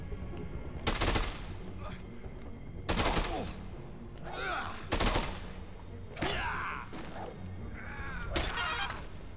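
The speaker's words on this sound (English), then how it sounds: "Assault rifle." Assault rifle gunfire in the video game Dead Rising 2 comes as several short bursts of rapid shots spaced a second or two apart, with game sounds and voices mixed in between.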